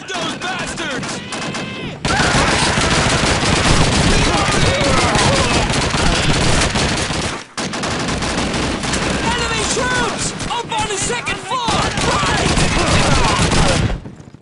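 Dense gunfire in Call of Duty 2 combat: rapid overlapping rifle and machine gun bursts fill nearly the whole stretch, loud and continuous, with a brief break in the middle and shouting voices mixed in.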